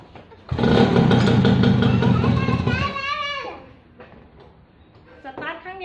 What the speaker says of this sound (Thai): เราก็แค่กดสวิตช์ตรงนี้ สตาร์ทให้ดูนะคะ